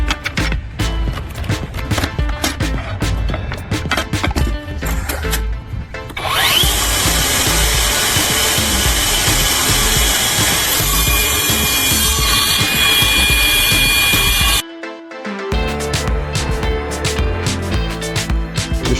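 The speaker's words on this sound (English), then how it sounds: "saw cuts through thick concrete blocks neatly" A loud power saw grinds continuously through thick concrete blocks, its high-pitched whine rising over heavy, rough rumbling, with a brief pause near the end.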